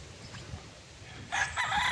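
A gamefarm broodstag rooster gives one loud, close crow in the second half, after a stretch of quiet background rumble.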